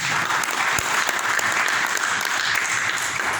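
Steady, dense applause fills a large gathering at a sermon or talk, constant crowd clapping throughout with no pauses.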